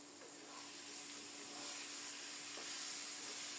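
Potatoes fry in a pan on a home stove with a steady, soft sizzling hiss that swells slightly and holds without pause, quiet and uninterrupted by talk.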